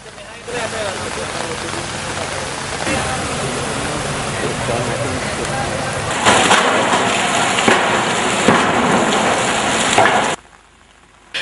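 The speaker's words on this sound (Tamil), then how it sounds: "இன்று அதிகாலை முதல் பெய்து வரும் அதிக மழை" Heavy rain pours down steadily and loudly, a dense continuous hiss that swells even louder near the end before cutting off abruptly.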